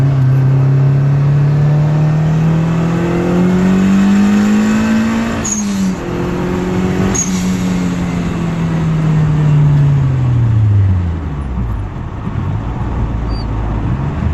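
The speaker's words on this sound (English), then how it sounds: "So let's take it here from a third gear pull." A boosted Honda EM1 revs hard through a third gear pull, the engine note climbing loud and close, dipping briefly for a shift, then winding up again before falling back toward idle.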